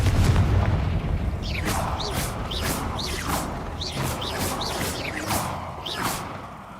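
Confringo blasting curse explosions in a game, a series of rhythmic whooshing bursts with a booming low rumble beneath, loud and close.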